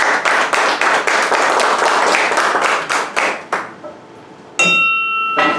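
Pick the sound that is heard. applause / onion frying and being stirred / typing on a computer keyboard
applause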